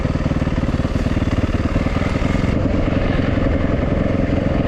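An uncorked Yamaha WR450F dirt bike engine barks with a rapid, loud, close thumping pulse, holding strong revs throughout with a slight shift in tone midway.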